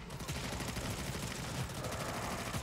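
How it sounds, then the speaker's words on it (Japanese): Rapid gunfire from the first-person shooter Redfall crackles in a dense, continuous barrage of overlapping shots, loud and unbroken with no talk over it. "なんか銃声します"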